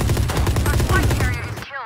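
Rapid gunfire from the Valorant video game, a quick string of loud, closely spaced shots that tails off into brief ringing at the end.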